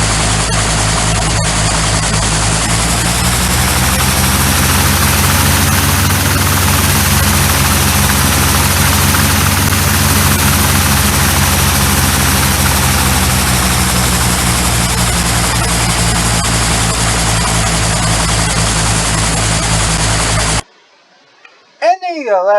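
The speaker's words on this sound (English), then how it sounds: "that's what this helicopter sounds like" A Hughes Osage helicopter's engine and rotor in the GeoFS flight simulator drone loudly and steadily for a long stretch, then cut off abruptly into near silence.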